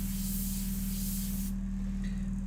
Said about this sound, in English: The airbrush is the one medium where you can draw and paint at the same time.